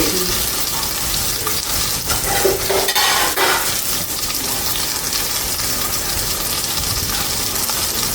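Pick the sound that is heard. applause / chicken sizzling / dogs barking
chicken sizzling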